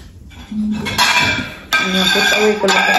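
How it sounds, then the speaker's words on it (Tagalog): Ceramic plates clatter and clink as they are stacked and put away in a home kitchen, two bright bursts of dish contact close by, with a voice talking alongside. "Put away ko lang ang aming plato guys."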